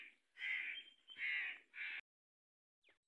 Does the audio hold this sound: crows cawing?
yes